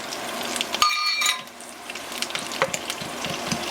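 Brown sugar is stirred into butter and olive oil sizzling in a pan for an apricot and pineapple pork steak dish. A close, continuous frying hiss comes with scraping stir strokes and light clinks of a utensil on the pan.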